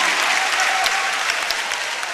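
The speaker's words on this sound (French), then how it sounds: "Ça s'applaudit!" A crowd at a debate competition final breaks into sustained applause, a thick wash of many hands clapping at an even level with a few sharper individual claps.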